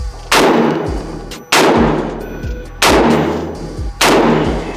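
Loud rifle shots from an AR fitted with a Ballistic Advantage Hanson barrel, four heavy booming reports about 1.2 seconds apart, each with a long rumbling tail and no talking.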